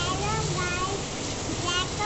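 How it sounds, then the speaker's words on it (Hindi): Overnight rain falling steadily outdoors, a soft continuous hiss with no gaps, heard faintly beneath a child's and an adult's voices. "आज रात से बारिश हो रही है।"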